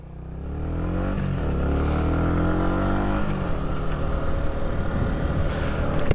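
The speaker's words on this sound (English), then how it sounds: "You name a guy that can idle a bike at 0 mile an hour and keep it in a straight line and upright." Motorcycle idling at zero miles an hour while held upright and straight, engine note swelling slightly then settling into a steady close chug with some clatter, no talk over it.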